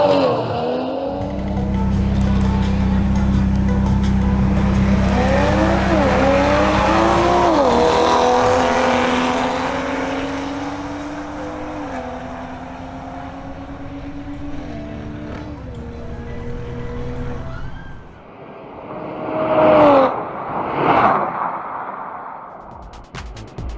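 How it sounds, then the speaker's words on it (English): A BMW M440i xDrive launches hard on a drag strip, its engine note climbing loud and close through several rising gear pulls before fading into the distance. Brief bursts of crowd or vehicle noise follow near the end. "Next, Miguel Palencia in his BMW M440i xDrive makes another run"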